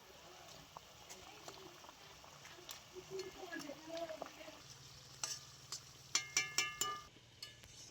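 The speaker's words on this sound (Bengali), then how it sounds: "এবারে আমি দিয়ে দিচ্ছি ভেজে রাখা মাছ।" Fried boal fish slid into a simmering tamarind curry in a pan, with soft sizzling and stirring that build to a few sharp scraping clinks near the end, close and moderately loud.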